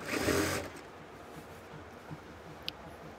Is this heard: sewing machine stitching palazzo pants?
yes